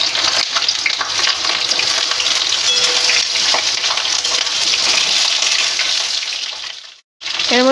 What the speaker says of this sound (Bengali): প্রথমে পটলটাকে ভেজে নেব